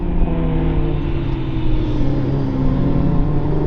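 A Toyota AE86 races at a track day, its engine holding a steady, loud revving drone with harmonic whine, close and continuous with no pauses.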